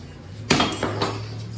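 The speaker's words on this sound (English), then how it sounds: "You grab a hammer and you just..." A hammer strikes the oil pump on a small block Chevy 350 engine, one sharp metallic clank followed by a fainter second knock over a low steady hum.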